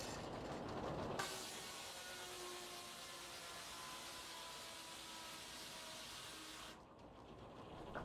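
A steady rushing whine from a working 1900s sawmill blade cutting through a log on the carriage, continuous and fairly loud before dropping away near the end.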